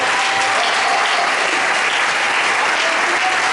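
Congregation at a church worship service applauding, a dense, steady roar of many hands clapping at once, loud and continuous from start to finish with no voices over it.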